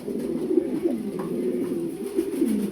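Low, throaty cooing from pigeons repeats steadily and close by, a soft continuous murmur with no talking.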